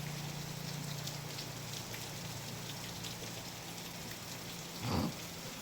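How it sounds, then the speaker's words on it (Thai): Steady rain falls outdoors as a faint, even hiss that lasts throughout. A brief low thump or rumble stands out near the end. "ฝนกำลังตกเลยครับนี่บรรยากาศ"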